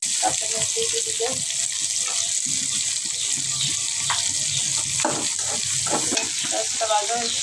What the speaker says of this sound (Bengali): ওই চুলাটা আমি মাছটা ভাজিয়ে নিচ্ছি